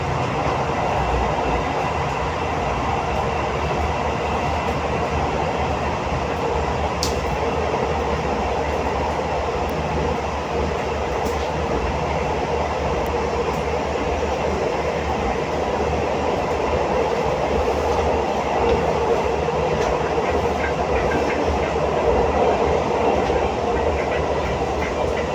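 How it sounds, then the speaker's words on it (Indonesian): A Logawa New Generation stainless steel passenger train rolls steadily along the rails, a continuous rumble with faint rhythmic clatter and occasional small squeaks, heard from inside the carriage. "Kita akan lanjutkan perjalanan naik kereta api Logawa New Generation stainless steel terbaru ini."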